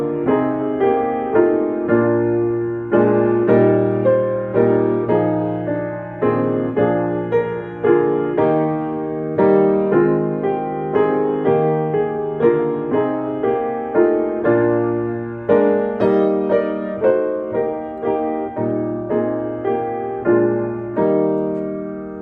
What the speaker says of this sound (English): the piano is fun because this song has a natural tendency for different dynamics, and so it's fun to play with that